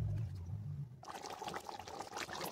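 Water is poured into a simmering Bengali chicken and potato curry, with a soft sizzle giving way to a close, steady pour.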